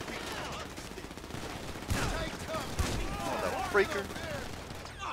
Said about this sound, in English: Who the hell's shooting behind me?